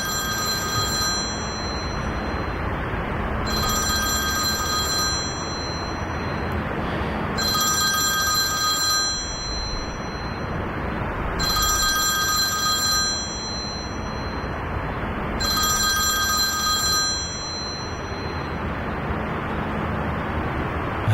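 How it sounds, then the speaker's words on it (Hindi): A telephone rings in repeated bursts of electronic trilling separated by short pauses, five rings in all, loud and close over a steady background hiss. "क्यों तुम्हारा फोन बज रहा है?"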